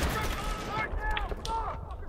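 Gunfire in a Battlefield video game, a burst of rapid shots and booming blasts with ringing tails, loud and dense at first, then scattered reports as the firing thins out.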